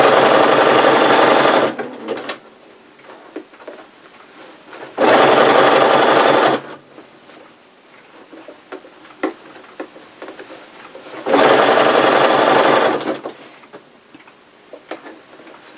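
A sewing machine stitches bias binding onto an apron in three loud, close bursts of rapid whirring, each lasting about two seconds, separated by quieter pauses with faint handling clicks.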